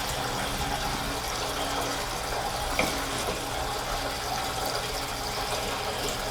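Unleaded gasoline poured steadily from a 4.5-gallon jug into the tank of a Craftsman 3500/4350 watt gas generator, a constant low liquid gush and trickle, moderately quiet and unbroken throughout, with no talking.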